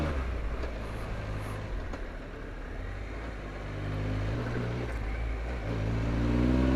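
A motorcycle rides along a road in the Lake District, its engine a steady, close drone that swells slightly toward the end, with no talking over it.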